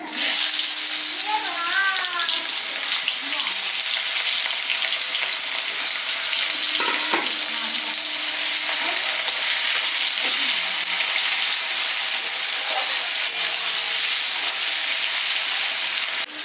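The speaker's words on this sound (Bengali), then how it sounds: "তেল গরম হয়ে গেছে দিয়ে দিচ্ছি দুটো শুকনো লঙ্কা পেঁয়াজ কুচি" Dried red chilies and chopped onion hit hot mustard oil, giving a loud, steady crackling sizzle that lasts the whole stretch, with a few faint scrapes and clinks in the pan.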